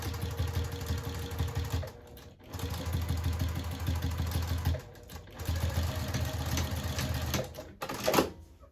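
Sewing machine back stitching a minky blanket: close, rapid mechanical clatter that runs in bursts of one to two seconds, separated by short pauses and faint handling sounds.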